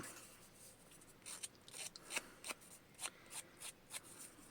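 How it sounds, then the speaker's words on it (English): Scissors blades scrape and rough up the edges of paper ephemera for junk journaling, a series of about a dozen short, soft rasping strokes in a quick irregular rhythm, close but faint. "So I'm going to grab a pair of scissors."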